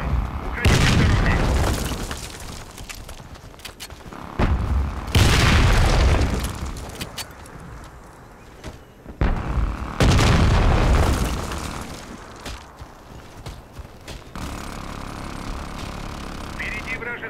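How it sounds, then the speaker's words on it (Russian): Several heavy grenade blasts and booms in a Russian-language war video game hit in loud bursts with rumbling decay between them, while shouted voices carry over the combat. "Граната пошла!"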